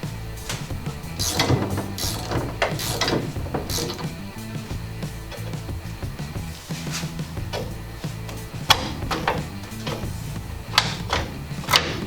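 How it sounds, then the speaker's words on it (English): Coil spring for an El Camino suspension being compressed with a ratcheting spring tool, giving repeated sharp clicking ratchet strokes and metallic clanks in uneven bursts, close and fairly loud. "you can see the spring, the coils are getting closer, the spring is getting shorter"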